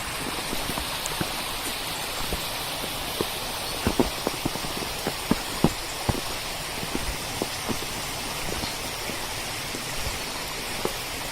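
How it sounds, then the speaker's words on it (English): A river runs steadily in a park, a broad wash of flowing water with scattered small splashes and drips, continuous and fairly close with no talk. "Can you hear the river? I just love the sound of the water running there."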